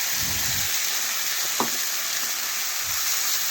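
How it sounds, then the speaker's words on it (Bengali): Fish oil sizzles steadily with softened onions in a pan, a continuous close frying hiss with a few soft stirring clinks and scrapes. "এখন আমি মাছের তেলটা দিয়ে দিলাম।"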